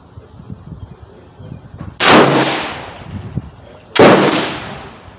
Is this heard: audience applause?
no